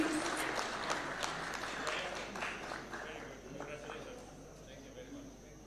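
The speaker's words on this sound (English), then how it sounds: "A round of applause kindly." An audience applauds at a taxpayers' day awards ceremony at State House Nairobi. The steady, moderately loud clapping carries on throughout with a distant, roomy quality, and a voice is faintly audible underneath.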